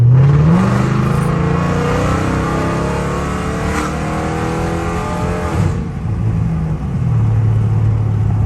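A catless Dodge Charger SRT accelerates hard with a loud, close, sustained engine roar that rises steadily in pitch over several seconds and then eases off, with no talking.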